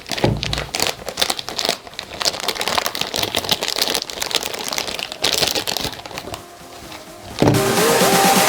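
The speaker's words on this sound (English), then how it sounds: "So we can use this, our nice cutter, we just cut it." A cutter slices open parcel packaging with quick scraping and crinkling strokes close by, plastic and cardboard rustling as it is handled, ending in a sharper, sustained rasp.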